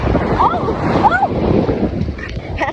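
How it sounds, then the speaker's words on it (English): Ocean waves crash and wash continuously at a beach inlet. The surf roar is close and loud, mixed with gusty wind buffeting and occasional distant shrieks from people in the water. "there's a huge wave coming"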